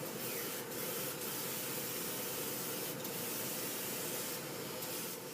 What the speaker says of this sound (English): I'm spraying it so it's not getting too wet.